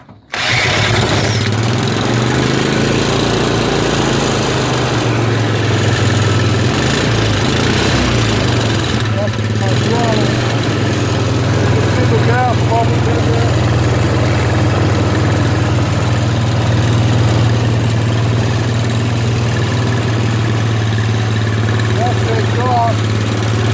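Small gas vapor powered engine starting up and settling into a steady, loud idle, a continuous low hum with a buzzing mechanical texture, close by and running unbroken throughout.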